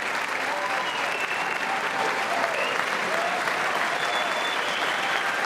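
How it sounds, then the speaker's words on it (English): Dense, sustained applause from a large crowd at the State of the Union address, steady and loud throughout with no pauses. "almost 2 minutes of applause"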